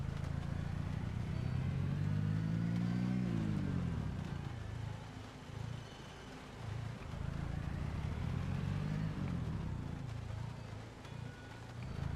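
A car engine revs loudly, its pitch climbing in a long sweep over the first few seconds, dropping back, then surging again later in a second rising run, with no voices over it.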